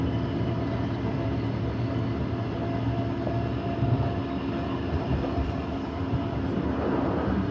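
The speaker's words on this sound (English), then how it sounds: "Another Ipswich train passing" An Ipswich line suburban train in Brisbane passes close by with a loud, steady rumble and broad rushing roar that holds throughout.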